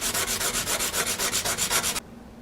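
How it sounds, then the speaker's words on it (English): Carburetor part for a 1973 Honda CB750 rubbed on emery cloth over a dead-flat platter, a steady run of rhythmic back-and-forth scraping strokes, close and fairly loud, stopping abruptly near the end. "We'll just start sanding on this thing."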